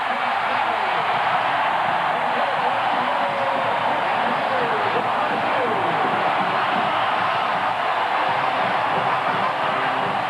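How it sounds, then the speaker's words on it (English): LSU football stadium crowd roaring as Saban's team takes the field against Oregon State in 2004, a dense steady wall of cheering across the whole stretch with a voice talking underneath. "the crowd still ready to whoop it up as head coach Saban brings his team onto the field"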